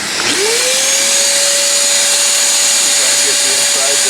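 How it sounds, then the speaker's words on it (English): A shop vac whines up to a steady, loud roar as it cleans out a Pit Boss Lexington pellet grill, holding one continuous tone with faint clunks of the nozzle near the end. "Let's fire up the old shop vac,"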